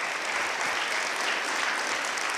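An audience claps steadily and evenly at a Christmas gathering, a dense, moderately distant wash of applause with no break and no voices over it.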